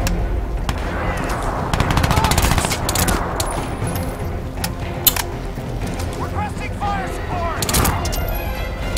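Continuous gunfire from a heavily smoking weapon in the Crysis 2 shooter, a steady dense rattle of shots at moderate loudness, blended with other noisy in-game sounds and clanks throughout.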